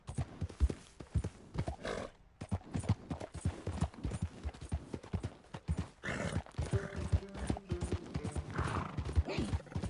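A horse in the video game Red Dead Redemption 2 trots with rhythmic clip-clopping hooves, nearby and steady, with several whinnies and snorts breaking in across the stretch.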